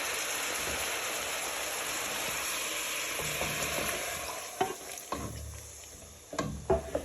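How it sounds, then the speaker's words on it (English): Chicken stock hits a hot pan for lemon and garlic chicken, a steady loud sizzle that later breaks into softer bubbling with a few clinks of stirring. "So now you're going to add in your stock."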